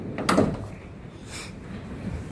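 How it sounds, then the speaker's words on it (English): A van's door opens with a quick clunk and a short rattling slide near the start, followed by a fainter second knock and quiet background. "When you open the door"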